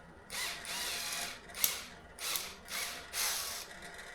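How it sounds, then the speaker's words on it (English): A power drill bores out part of a Husqvarna FC250 motorcycle fuel pump in several short bursts, each whine rising and cutting off, with brief pauses between them, close up. "we'll drill it out just so that we can get enough"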